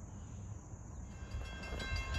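NJ Transit train 6631 approaches on a very sharp curve along former Lackawanna Railroad tracks, heard as a low, steady rumble that builds gradually, with faint high metallic tones over it.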